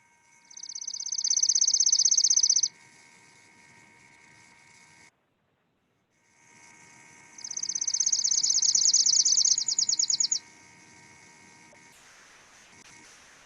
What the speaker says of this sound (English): The chipping sparrow is more of a mechanical trill, sometimes fast and sweet, other times slower and drier.